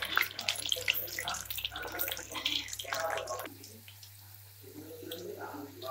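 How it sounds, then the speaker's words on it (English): Okra (bhindi) frying in oil over a low-medium flame, a steady close bubbling sizzle that softens partway through. "Fry until the crisp."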